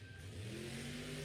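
A monster truck engine at a Miami, Oklahoma motorsports show, heard at a distance as the throttle is revved with rising, pulsing pitch, faint over crowd ambience.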